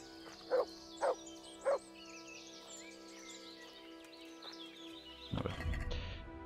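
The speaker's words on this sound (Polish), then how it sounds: "Jakiegoś psa słychać?" Three sharp dog barks spaced evenly apart, fairly close, over a quiet bed of chirping birds and ambient music in the video game Kingdom Come: Deliverance, followed by a burst of rumbling noise.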